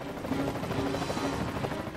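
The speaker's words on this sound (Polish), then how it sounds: "musimy się trzymać jednak w świetle tego helikoptera przez cały ten czas, jak tutaj chodzimy" A steady, muffled helicopter drone with a faint rhythmic rotor pulse hovers overhead in the video game Alone in the Dark, filling the scene without any speech.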